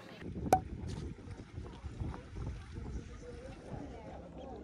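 A boat moves over a calm canal in Giethoorn, Netherlands, with a low engine hum and gentle lapping, a sharp knock near the start, and faint voices in the background.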